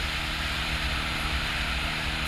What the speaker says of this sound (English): Now it's open roads, so you can wind up the motorbikes.